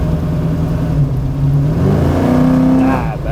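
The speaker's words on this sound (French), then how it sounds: "Je vous ferai un petit coup d'échappement aussi" A 1968 Chevrolet Camaro V8 revs hard close up, its exhaust climbing in pitch through a rising blip before easing back toward a rumbling idle, loud and continuous.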